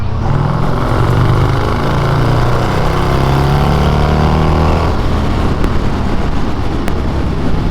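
A 223hp turbocharged Harley-Davidson accelerates hard in fourth gear, its loud, close engine note climbing steadily in pitch through a sustained pull, with wind rush throughout and no voices.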